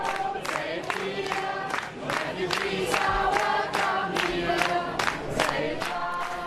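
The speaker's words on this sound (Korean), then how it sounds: "독일 살펠트 주민들이 기차역에 내리는 난민들에게 환영 노래를 불러주는 것을" Local residents at a train station in Saalfeld, Germany, sing a welcome song to arriving refugees, a crowd chorus of many voices with rhythmic accented beats, moderately distant and steady throughout.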